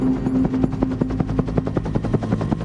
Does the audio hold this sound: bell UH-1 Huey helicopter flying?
yes